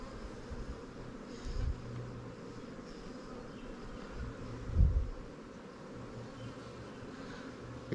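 Honey bees hum steadily around a queenright split hive during a honey flow, a soft continuous drone with faint rustling and a couple of low bumps, no one speaking.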